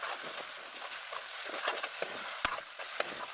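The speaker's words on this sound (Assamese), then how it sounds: "এয়া বিলাহীখিনি ঢালি দিলোঁ আৰু এতিয়া লৰাই ল'ম ভালকৈ" Tomatoes being stirred into spices frying in a pan, a soft hissing sizzle with scattered scrapes and one sharp clank of the spoon against the vessel.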